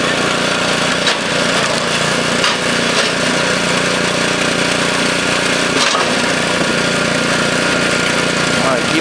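An engine-driven wood splitter, a very fast machine built by Maggio and Sons, runs with a constant, busy motor drone as logs are split, with occasional sharp knocks and cracks and people talking over it.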